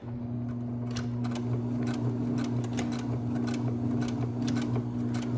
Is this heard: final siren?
no